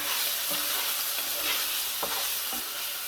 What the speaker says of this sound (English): We'll give this a cook so we can get those onions nicely cooked and the garlic cooked as well.